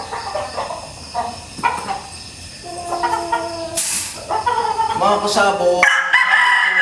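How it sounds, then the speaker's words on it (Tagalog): A Possum Sweater gamefowl stag crows nearby in the yard, a loud drawn-out crow, amid other roosters calling and clucking around it. Someone speaks briefly over the birds. "Napaka-perfect na stag nito. Magandang sukat ng paa at saka yung katawan at saka magaling na manok."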